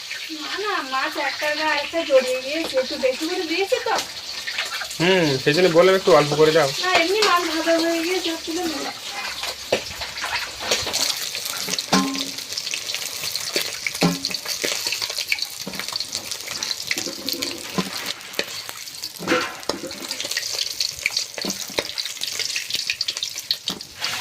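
River pomfret-type fish fries in a pan of oil for a home fish curry, a continuous crackling sizzle with sporadic spits, while people chat over it early on and quieter frying carries on afterward.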